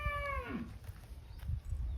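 A dairy cow gives a single clear moo at a cattle sale, with low rumbling and shuffling background noise behind it.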